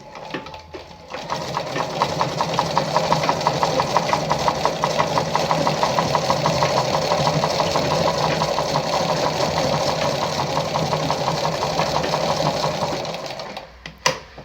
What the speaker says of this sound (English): In order to sew the zigzag of the machine, you just turn this.